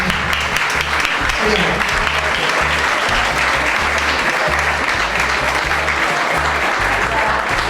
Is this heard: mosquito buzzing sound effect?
no